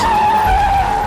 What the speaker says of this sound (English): However, he can become Car.